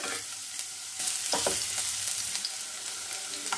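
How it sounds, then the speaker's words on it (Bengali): Carrots sizzle after being added to a small amount of hot oil, giving a steady close frying hiss with a brief louder flare as they hit the pan. "তেলটাকে খুব ভালো করে গরম করে নিয়েছি। দিয়ে দিলাম গাজর"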